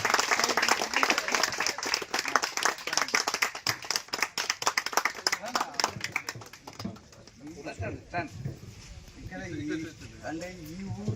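A crowd claps together at a village felicitation gathering, loud and rapid applause that fades out partway, after which people talk over the background.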